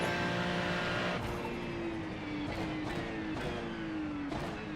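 A GT3 race car circling Sebring in a racing game, its engine droning steadily and loudly throughout, with pitch shifts as it shifts gears and accelerates between corners.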